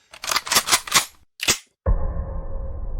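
Gunfire in a Chinese short drama: a rapid string of five sharp, close pistol shots, a pause, one more shot, then silence broken by a sudden sustained low rumbling roar.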